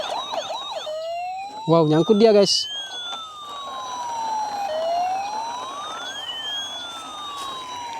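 Toy ambulance and fire truck sirens wail and sweep up and down in pitch with electronic tones, loud and close over a toy track, while a person talks briefly over them.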